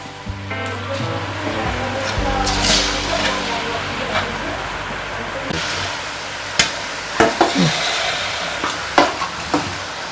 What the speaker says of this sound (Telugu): ఇదిగోనండి చక్కగా వేగుతున్నాయి కదా